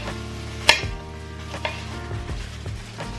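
A kitchen knife cuts food into thin pieces on a board: one sharp, close knock, then a few softer, irregular taps, with a faint sizzling hiss underneath.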